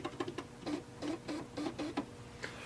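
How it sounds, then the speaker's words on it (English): A Victor PL8000 thermal printing calculator printing, giving a quiet series of short, evenly spaced ticking bursts, low in level and close by. "The Victor PL8000 is virtually silent because it is a thermal printer"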